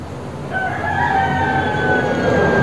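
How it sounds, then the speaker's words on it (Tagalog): A rooster crows loudly nearby beside a road, one long drawn-out call rising and holding over a low background rumble. "medyo maingay dahil sa mga manok na alaga ng papa ko"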